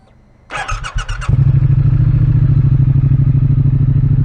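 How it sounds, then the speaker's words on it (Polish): A motorcycle engine cranks with a few sputtering bursts, then catches and settles into a loud, steady idle close by as it warms up. "spokojnie zagrzejemy motocykl"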